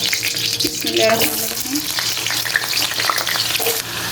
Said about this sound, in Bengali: এখানে আমি 2টা আলু কিউব করে কেটে রাখছি। এখন প্রথমে আমি আলুটাকে একটু ভাজবো।